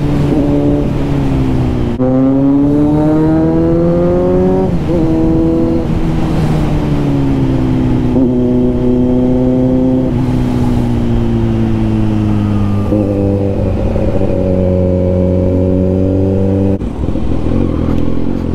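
Kawasaki Z900 motorcycle engine revving, loud and close, with a steady throaty idle rising and falling in pitch through several throttle blips, no voices over it.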